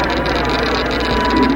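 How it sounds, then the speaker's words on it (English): A large freighter passes overhead, heard from underwater as a steady, loud, low droning rumble of engine and propeller that holds without a break. "I was in the direct path of a large freighter, which was approaching overhead"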